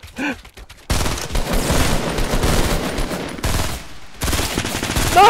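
Gunfire from a Fortnite match, with a rapid, sustained burst of shots filling most of the moment and a short pause before firing resumes loud and close; a brief voice is heard at the very start.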